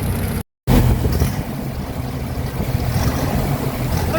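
Old stationary engine with a slight head gasket leak running steadily under its governor, a loud, continuous low chugging that cuts out briefly near the start, then carries on with a slightly uneven, rising and falling beat.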